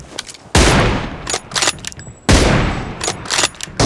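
Two loud video game gunshot blasts ring out about two seconds apart, each followed by a rattling burst of rapid shots and echoing decay.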